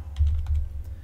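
A short burst of quick, light keystrokes on a computer keyboard while typing an email address, several close taps in an irregular rhythm, near and clear with no voices.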